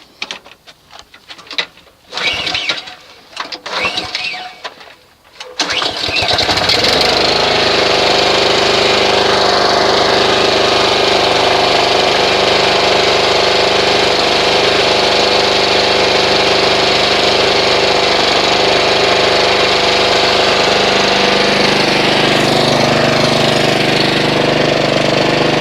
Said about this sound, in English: go ahead and test start the engine.